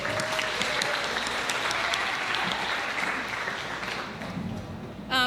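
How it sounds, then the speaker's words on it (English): Audience applause at a spoken-word event: a dense, steady wash of clapping from a room of people that holds for about five seconds, then thins slightly near the end. "Can we give another round of applause for Frank?"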